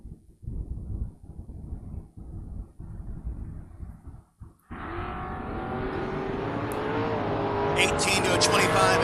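Drag racing door cars launch and roar down the strip at a drag racing event, a loud sustained engine howl rising in pitch after a stretch of announcer commentary, with an announcer talking over the racing.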